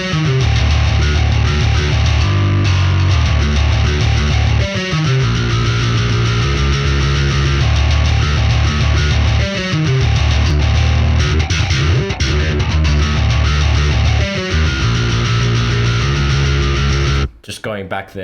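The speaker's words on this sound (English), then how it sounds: "Those 4 plugins, along with the actual bass tone itself, is all you need to get a bass tone that sounds like this." A heavily processed, distorted bass guitar tone from the EuroBass III virtual instrument plugin plays a loud, continuous riff with shifting notes for most of the stretch, then cuts off briefly near the end.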